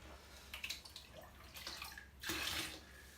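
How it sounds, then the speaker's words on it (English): Aquarium tank water is poured into small containers in short bursts, with splashing trickles starting and stopping and a louder, fuller pour near the end. "what I'm doing right now is I'm just adding some of my tank water"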